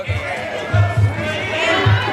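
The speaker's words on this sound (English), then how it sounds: "This crowd from Hard Times is waiting with bated breath to cheer on Darius" Crowd noise at a Hard Times fight event in the Reno Sparks Convention Center, a steady murmur of chatter and low rumble with a few swelling bursts of cheering across the short stretch.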